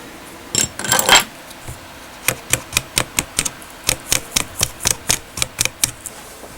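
Gentle metal-on-plastic tapping as a cut screw is hammered and gripped with wire strippers into a BIC multi pen: a brief scraping rattle, then a steady series of about fifteen sharp, close taps in quick, fairly even rhythm.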